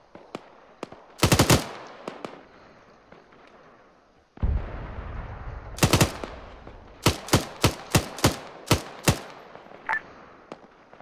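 Gunfire in the military video game Arma 3, with short loud bursts and single sharp shots cracking close by at irregular intervals over a low rumbling background.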